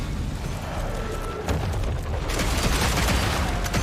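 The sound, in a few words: gunfire from the video game Evil West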